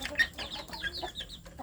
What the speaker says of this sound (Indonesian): saya memberi makan anak ayam kampung saya sedulur